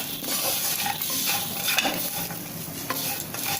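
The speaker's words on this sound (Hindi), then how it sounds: "अब हम इसमें ये 1 चम्मच अपनी चीनी थी इसको डाल देंगे। अच्छी तरह से इसको मिलाएंगे" Roasted dry fruits and a spoonful of sugar stirred in a pan for a diet namkeen mixture, a dense continuous rustling scrape with light sizzle and occasional utensil knocks, close and fairly loud throughout.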